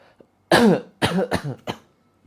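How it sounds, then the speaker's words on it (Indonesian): During a group spiritual healing therapy session, a person gives several forceful coughs and throat-clearing grunts. There is a loud initial burst, then three shorter hacks in quick succession, all close to the microphone. "Lalu batuk-batukan."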